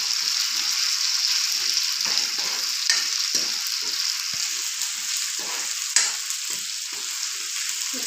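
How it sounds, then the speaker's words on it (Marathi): Chopped green chillies sizzle and fry steadily in hot oil, a continuous close crackle with occasional stirring scrapes and small bursts, no talking. "आणि त्यामध्ये आता ही हिरव्या मिरच्या बारीक केलेल्या ते टाकलं बघा. चांगलं भाजू द्यायचं हे तेलामध्ये."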